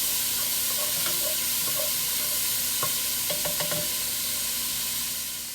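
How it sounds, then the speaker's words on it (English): Bacon renders and sizzles steadily in a pot for beef stew, a continuous fatty crackle with a few sharper pops and scrapes near the middle, close and moderately loud with no talk. "And look at our bacon rendering down nicely."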